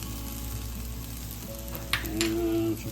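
Spinach sautéing with garlic, fresh basil, salt and pepper in a pan, a steady close sizzle with a couple of brief utensil scrapes near the end.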